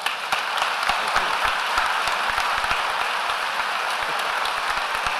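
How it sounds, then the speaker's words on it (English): An audience at Roanoke College applauds steadily for Bishop N. T. Wright after his lecture, a dense wash of many hands clapping at even loudness throughout with no voices on top. "please hold your applause for just a second"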